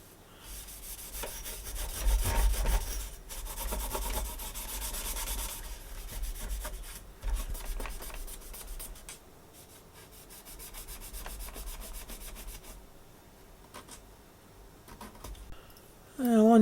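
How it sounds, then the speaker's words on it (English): A cloth soaked in isopropyl alcohol is rubbed over the metal casing of a Kikusui PCR500M AC power supply, giving close, steady scrubbing strokes that come in bursts with brief pauses. "I'll get some IPA and see if I can wipe this down, give it a little bit of a clean up"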